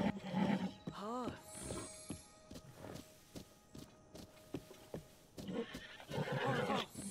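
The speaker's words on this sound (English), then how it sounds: "Look, it's a big horsey." A big horse in Zelda: Tears of the Kingdom gives a loud whinny with a rising and falling pitch, followed by snorts and shuffling hoof sounds. Voices chatter over parts of it.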